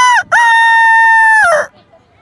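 A man imitates a rooster's crow with his voice: one loud, sustained cock-a-doodle-doo that rises, holds steady, then trails off, following a short opening note.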